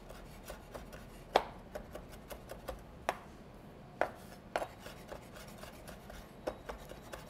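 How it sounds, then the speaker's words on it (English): A big kitchen knife chopping fresh basil on a board, quiet irregular taps with a few sharper chops standing out, close and alone without talk. "Take my nice big knife here and just run through and give these a little bit of a chop."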